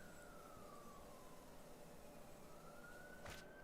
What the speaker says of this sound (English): Uh-oh, there's sirens.